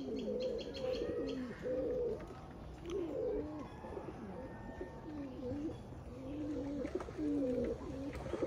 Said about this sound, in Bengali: বাজি আর কবুতর এই একটাই মজা, যে কবুতরটা ফুলে ফুলে ওঠে।